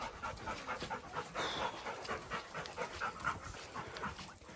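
A dog pants rapidly and rhythmically on a walk outdoors, close and clear, its quick breaths repeating steadily with a few soft whimpering notes mixed in.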